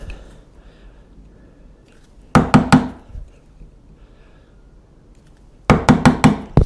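Mallet blows strike a chisel cutting a wood joint for a mortise and tenon: a quick cluster of three sharp knocks, a quiet pause, then another rapid burst of four or five close, loud hits.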